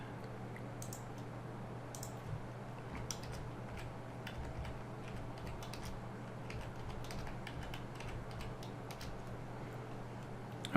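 Fingers type on a computer keyboard, producing a long irregular stream of soft clicks and taps with brief pauses over a faint steady hum, with no voices.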